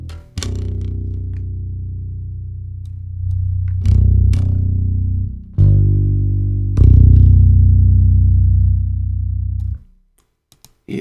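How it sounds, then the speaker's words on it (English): A deep synth bass with no reverb plays sustained low notes in several phrases for a doom metal and trip-hop track, loud and up front with no voices, then cuts off near the end. "Yeah, that sounds like a bass."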